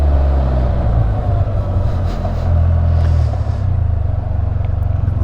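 A 2018 BRP Can-Am Spyder RT three-wheeler with high-mounted OEM mufflers rumbles steadily and loud from start to finish, a deep continuous exhaust drone with slight swells in intensity and no talking.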